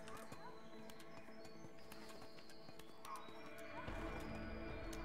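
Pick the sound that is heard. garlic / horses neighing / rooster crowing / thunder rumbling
horses neighing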